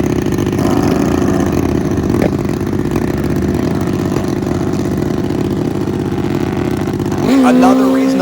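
Harley chopper and Suzuki Busa motorcycles at a bracket drag race, a loud steady engine drone throughout that rises into a sharp higher rev near the end, with an announcer talking over it.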